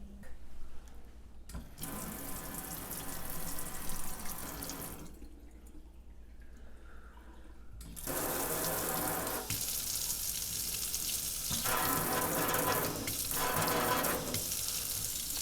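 Water runs from a detachable pull-out sprayer on a kitchen faucet in a steady hiss, changing tone partway as the stream shifts, close by and moderately loud with no voices.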